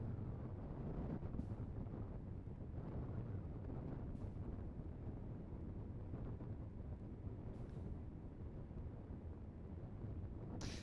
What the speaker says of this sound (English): It is still quite blustery here at the KSC press site.